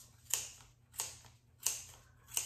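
Scissors snipping through a yarn pom pom held in a Clover pom pom maker, with four sharp, crisp cuts spaced at a steady rhythm, close and fairly quiet, with no talking.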